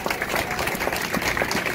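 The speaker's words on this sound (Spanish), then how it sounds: "Un aplauso al Señor con vida." Congregation applauding during a lively church worship service, a steady wash of many hands clapping together at moderate volume with a few voices faintly underneath.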